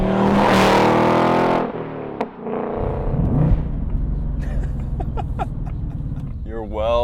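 A 2024 Ford Mustang GT V8 with a 6-speed manual roars loudly at high revs, then drops to a lower rumble with shifting tones as it keeps running nearby.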